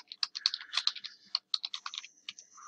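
Quick bursts of computer keyboard typing, close and crisp, with uneven clusters of key clicks and short pauses, no voice over them.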